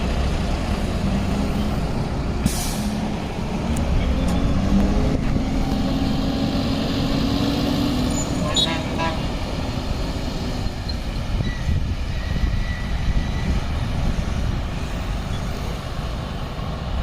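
Two Massey Ferguson 254 DI 4WD tractors rumble and drive off outdoors, their diesel engines producing a steady, loud low drone that continues throughout with a few brief higher clanks.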